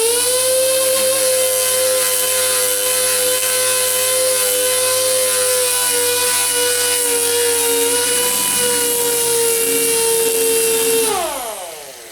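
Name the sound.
dual-action sander sanding body filler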